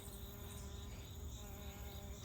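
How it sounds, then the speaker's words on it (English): Bees and a wasp buzz steadily around flowering plants in a back yard garden, a faint, continuous hum close by with no talk. "There's some bees."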